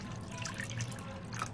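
Water poured from a tap into a bowl of yogurt mixture with green chili paste for dahi vada, a steady close trickle and drip without pause.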